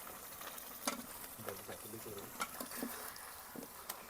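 Ash gourd pieces go into spiced oil one by one, each landing with a sharp sizzle burst over a continuous frying hiss, with faint voices and stirring scrapes mixed in.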